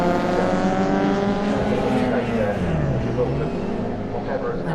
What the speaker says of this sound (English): Mike Luck driving the BMW E21 320